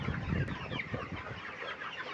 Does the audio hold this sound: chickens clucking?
yes